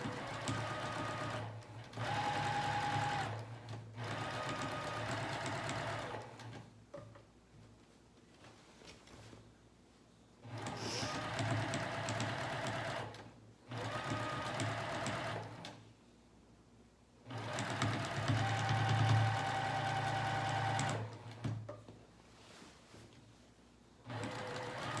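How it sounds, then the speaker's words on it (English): A sewing machine whirs in repeated bursts of stitching, each run lasting a few seconds and separated by short quiet pauses, close and fairly quiet. "That's a really handy feature that's on that sewing machine."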